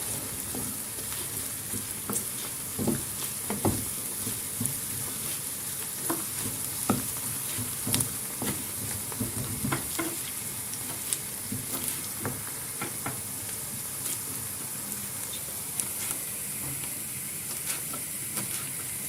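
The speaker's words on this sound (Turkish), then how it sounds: "Soğanlarımızı bir yandan kavuruyoruz." Steady sizzling of onions sautéing in a pan, with occasional stirring scrapes and light clatter, continuous and close, no voices.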